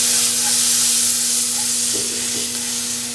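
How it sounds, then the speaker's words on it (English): Zucchini and a little red onion stir-fry in a hot pan, a steady close sizzle and hiss with a few soft stirring knocks near the end, no talking. "it is time to do our zucchini and our little bit of red onion."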